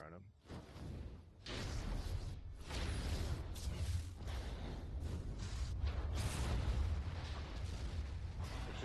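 In the Dragonwilds video game a fire spell hits a creature with a sustained roaring, crackling blast of flame, which stays dense and rumbling for several seconds after a brief quieter start. A voice talks over it.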